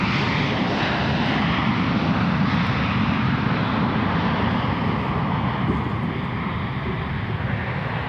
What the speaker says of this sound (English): we have a arriving Delta A320